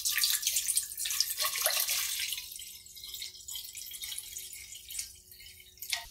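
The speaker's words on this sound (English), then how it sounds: "get about half a gallon of it into a pot on the stove" Filtered water, about half a gallon, runs into a pot on a stove, a steady splashing pour with drips that eases slightly toward the end, close and alone without talk.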